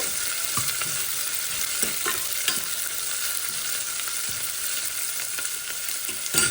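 Vaddu brinjal curry ingredients sautéing in a hot pan, giving a dense, constant loud sizzle with occasional stirring scrapes and taps, close up and uninterrupted, with nobody speaking.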